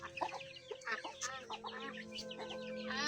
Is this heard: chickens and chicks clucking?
yes